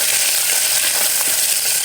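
Spinach gravy hits fried onions in a hot pan, producing a loud, dense, continuous sizzle that stays steady from start to finish with no talk.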